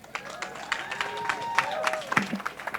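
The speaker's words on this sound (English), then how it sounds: "So round of applause for her" An audience at a mural unveiling event at Prudential Center in Newark applauds a woman stepping up to the podium: a steady patter of many hands with a few voices and cheers mixed in.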